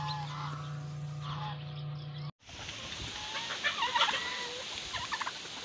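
Chickens and a turkey call from a farm coop, with gobbling and clucking rising after a brief cut, the birds fairly close and varying in loudness over a steady hum.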